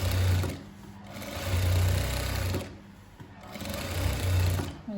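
A domestic sewing machine runs in steady bursts, its motor humming and needle chattering rapidly as it stitches a patchwork ethnic bag, pausing briefly between runs.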